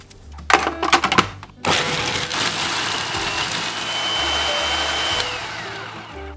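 Food processor whirring through dehydrated apple with cinnamon and a pinch of salt: a few short pulses, then a loud continuous grinding drone that holds steady for several seconds before easing slightly near the end.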